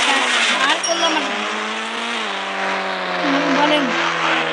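A car in the Indian Bike Driving video game drives along, its engine tone rising and bending steadily through a loud, continuous run with no pauses.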